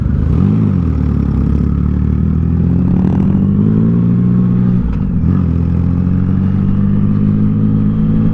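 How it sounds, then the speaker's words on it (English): Triumph Rocket motorcycles, including a Rocket X, all fitted with loud aftermarket exhausts, produce a deep, steady rumbling drone close by. A brief rev rises near the start, and the low throb carries on unbroken throughout. "every single one of our bikes have got aftermarket exhausts on them, and all of them are pretty bloody loud"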